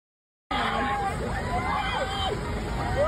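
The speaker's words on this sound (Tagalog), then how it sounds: "Kita yung sigawan ng mga taga Davao." Crowd of Davao residents shouting together, a loud continuous hubbub of many voices with rising and falling cries, close and filling the scene from start to finish after a brief silence.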